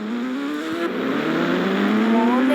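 A motorbike engine in the video game Indian Bikes 3D revs continuously and loudly, its pitch climbing, dipping briefly, then rising again over a couple of seconds.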